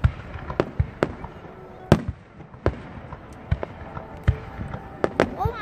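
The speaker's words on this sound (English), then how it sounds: "Oh, I've got pretty good fireworks." Fireworks bursting at a July 4 display at Mount Airy Casino, a series of sharp booms and cracks at irregular intervals, some close and loud, others fainter, with a few crackling tails.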